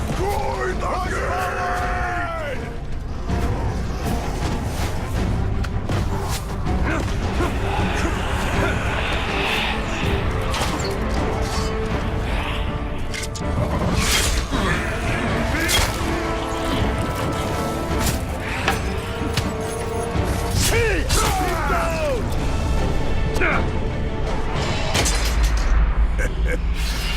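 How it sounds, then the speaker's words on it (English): A castle gate is smashed and torn apart in the Middle-earth: Shadow of War battle, with heavy booms and crashes over a constant roar of fighting, shouting and groaning warriors that runs loud through the whole stretch. "Destroy the gate!"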